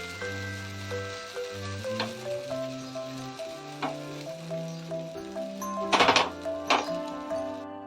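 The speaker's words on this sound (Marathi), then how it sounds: "तर आपण घावण घालून घ्यायचं आहे सर्व बाजूने असे फिरवून घ्यायचं आहे" Rice flour ghavan batter spread over a hot tawa gives a steady, gentle sizzle, with a louder crackling burst partway through, all under soft background music.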